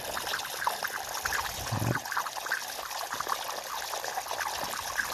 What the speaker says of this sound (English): And I'm giving it a flush out. Just a normal water.